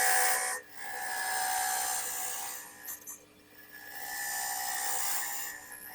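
Oak lidded box being hollowed on a woodturning lathe with a half-inch ball gouge, a close, bright rasping cut in repeated strokes broken by short pauses.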